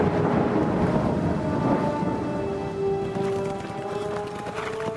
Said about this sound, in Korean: 그날 밤 고디엄시에 천둥을 동반한 폭풍이 몰아치는